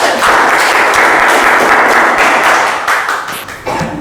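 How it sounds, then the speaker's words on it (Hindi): An audience claps steadily and loudly for several seconds to welcome a speaker at a Hindi Diwas poetry gathering, then the applause thins out and fades near the end. "तो जोरदार तालियों से स्वागत करिए"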